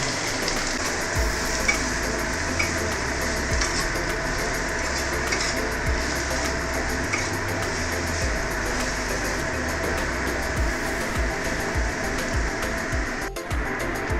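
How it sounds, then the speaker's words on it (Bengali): Small diced potatoes frying in a pan for a home-style potato-and-poppy-seed curry, a steady close sizzle with occasional stirring scrapes throughout. "সেই আলুটাকে আমরা দিয়ে দিচ্ছি এবং এটাকে ভালো করে আমরা ভেজে নেব।"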